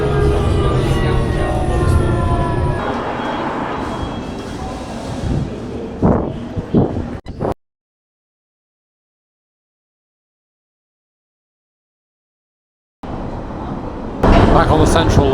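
A London Underground Central line train running toward Epping: steady, loud rumble and rattling wheel noise with a speaking voice, then a sudden break into silence, and the rumble returns near the end.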